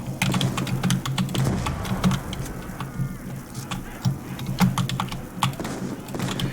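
Computer keyboard typing during a World at War zombies game, with repeated presses on the shift key; rapid, irregular, close clicks go on throughout over a steady low hum, with no talk.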